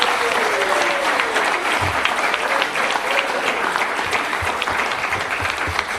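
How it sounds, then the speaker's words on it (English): Sustained, dense applause from a summer camp audience at a student AI showcase, loud and steady throughout, with a few voices faintly under the clapping. "give yourselves all a round of applause"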